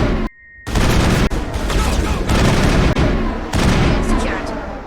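A firefight in the video game Mass Effect, with loud, dense bursts of rapid gunfire, repeated sharp shot cracks and booming impacts after a brief quiet moment.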